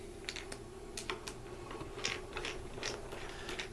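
A screwdriver turning the adjustment mechanism of an SD2 kit with a rod inserted, giving a quiet series of ratcheting clicks and faint gear-like ticks close by, with no talking.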